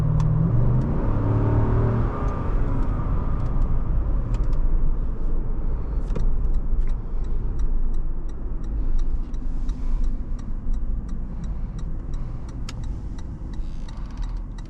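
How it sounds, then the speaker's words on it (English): A 2023 Lexus GX460 engine drones steadily under power out of a corner, heard from inside the cabin, with faint ticking from the car. "Trail brake in, bleed off the brake, roll to the power."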